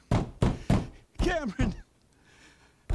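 Three firm knocks on a bedroom door in quick, evenly spaced succession, followed by a person calling out.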